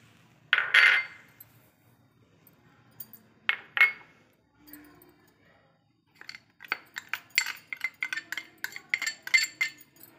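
A spoon clinks against a bowl while semolina and gram flour are mixed for dhokla: a few isolated scrapes and taps, then a run of quick irregular clinks, close and fairly faint.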